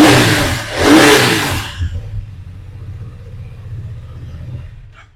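A BMW F900 motorcycle at a used-bike showroom near Kolkata gives a loud rev that swells and drops back, then settles into a low, steady rumbling idle close by.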